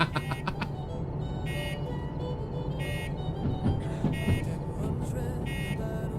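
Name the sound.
DE6 locomotive bell in video game Derail Valley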